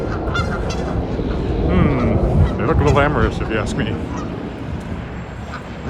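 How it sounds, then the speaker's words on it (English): Geese honk on a city sidewalk along College Avenue in Regina, a few fairly close calls mixed with steady street noise while someone talks over them. "Geese. Oh, they're actually on the sidewalk."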